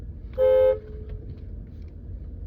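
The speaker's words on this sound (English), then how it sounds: "I could honk the horn." A car horn gives a single loud, steady honk of about a third of a second, then falls away into a quiet background hum with no other sound.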